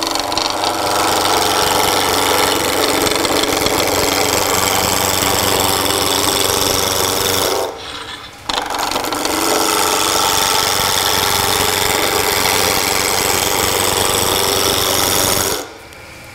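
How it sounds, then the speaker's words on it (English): A wood lathe spins a spindle under a shearing cut, a loud continuous rough whirring and tool chatter that breaks off briefly twice. "I'm going to bring it around and make more of a shearing cut."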